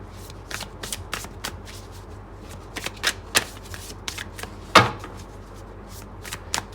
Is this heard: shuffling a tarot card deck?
yes